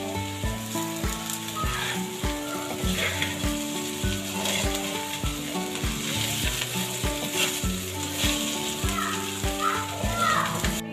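Okra (bhindi) fries in hot oil, a continuous crackling sizzle with occasional stirring scrapes, mixed under rhythmic background music throughout.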